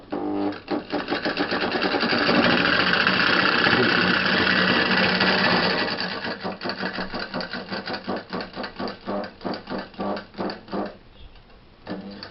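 A small handmade solenoid motor runs with a steady, fast mechanical chatter, close and loud. Toward the end the beat slows into distinct pulsing strokes.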